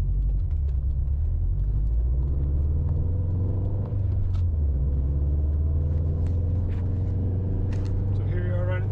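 A Subaru GR/VA STI cruises at about 3,000 rpm, its engine a steady low rumble with road noise heard from inside the cabin, continuous and fairly loud throughout.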